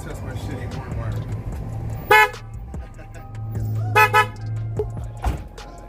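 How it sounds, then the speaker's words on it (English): A car horn sounds in short honks, one at about two seconds and a double toot near four seconds, fairly loud over low rumbling background noise and faint voices, tested right after new horn wiring on a car fitted with a Momo steering wheel. "First thing is we test my shitty horn wiring."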